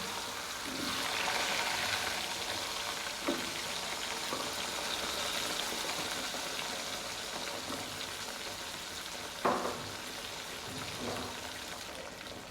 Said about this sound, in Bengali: মাছ ভাজা তেলের মধ্যে করলা ভেজে দিচ্ছি, একটু ভেজে নেব।